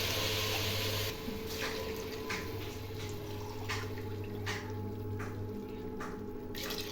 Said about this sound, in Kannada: 3 ಗ್ಲಾಸ್ ನೀರು ಹಾಕೋದು.